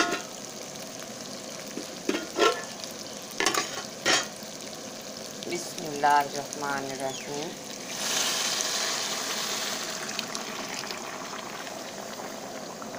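Boiled water is poured into a pan of lightly fried rice for zarda, giving a loud, steady sizzling hiss that continues through the second half. Earlier, someone speaks briefly and a few utensil clinks and stirring sounds are heard.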